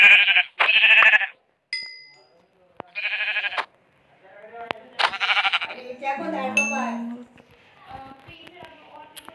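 A Minecraft goat gives several loud, close, nasal bleats in quick bursts, followed by a person talking over further game sounds.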